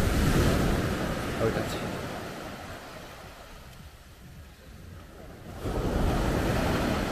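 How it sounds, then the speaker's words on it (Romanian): Large sea waves roll onto a seaweed-strewn beach at Mangalia on the Black Sea, a steady loud surf roar with wind, easing briefly then surging again, while a voice briefly speaks. "Așa valuri mari și atât de multe alge n-am văzut nicăieri."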